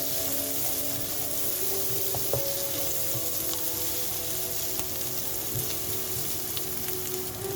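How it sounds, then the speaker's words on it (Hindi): Chopped onions frying lightly in oil in a pan for a street-style mini samosa filling, giving a steady, close, continuous sizzle with faint crackles throughout and no voices. "प्याज को हल्का सा फ्राई करेंगे, बस ज़रा सी ये नरम हो जाए।"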